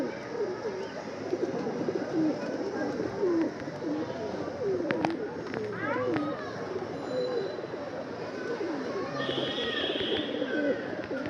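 Several pigeons coo in soft, overlapping rumbling calls, close by and continuous, with faint children's voices and chatter in the background.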